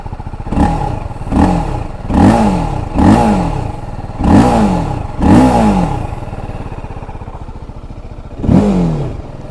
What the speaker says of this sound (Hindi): अब इसको ना एग्जॉस्ट की आवाज़ सुनाता हूँ आपको।